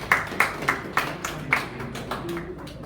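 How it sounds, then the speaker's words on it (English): Applause from a small radio-station audience comes as roughly eight or nine separate, fairly quiet claps in a loose, uneven rhythm, thinning out toward the end. "everybody deserves a round of applause"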